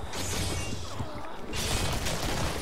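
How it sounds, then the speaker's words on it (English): Mechanical clicking and ratcheting of a weapon being reloaded in the Killing Floor video game, a short burst of metallic handling noise over steady background game sound. "I'm reloading!"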